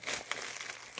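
Jewelry pieces slide into a sheet of paper inside a shipping bag, a close, steady crinkle and rustle of paper with a few sharper crunches across about a second.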